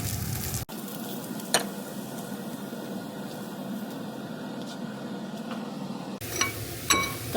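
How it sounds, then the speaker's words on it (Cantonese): Barbecued char siu pork stir-fried in a wok gives a steady, close sizzling hiss throughout, broken by a couple of sharp clinks from the utensil against the pan. "當啲叉燒炒到佢焦香咧，其實我哋將佢攞出嚟啦。"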